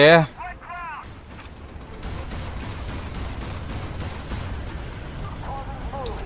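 Rapid gunfire in the video game Prototype, a dense stream of repeated shots and blasts running steadily for several seconds after a brief burst of speech at the start.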